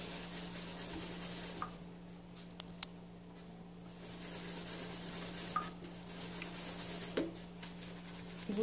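A makeup brush swirled in a circular motion through cleaning product in the palm, giving a soft, close, continuous rubbing and squishing sound with a few small clicks and taps.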